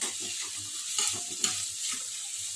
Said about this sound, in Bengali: তো পেঁয়াজটা ভাজা ভাজা হয়ে আসছে